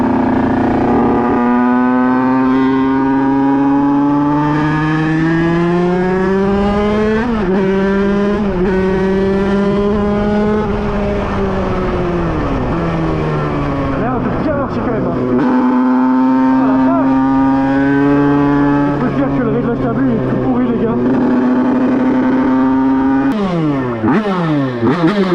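A Beta 50cc supermoto motorcycle engine runs steadily, its loud buzzing note repeatedly rising and falling as it revs up and eases off over about 25 seconds, with no pause.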